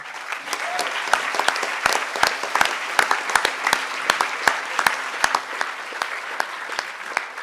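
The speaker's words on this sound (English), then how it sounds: "Give yourself a round of applause" Audience applause fills the hall at a hacker conference's closing ceremony, a steady dense wash of clapping with sharp individual claps popping out, sustained loudly throughout.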